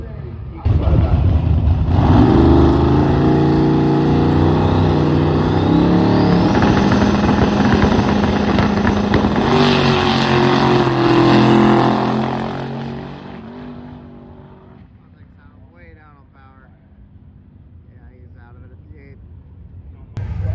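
A drag race car making a pass at drag week roars loudly for about twelve seconds, the engine tone climbing through gears before fading off into the distance, with a commentator talking over the quieter end.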